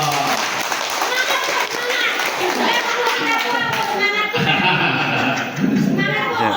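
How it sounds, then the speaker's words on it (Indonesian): A group claps and applauds together for an award presented by an orphans' foundation at an outing, a steady rattle of hands with voices and children's chatter mixed in throughout. "Tepuk tangan dong."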